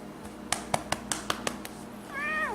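Cat meowing indoors, with a rapid series of sharp taps or clicks followed by a clear, drawn-out meow at the end, close and fairly loud.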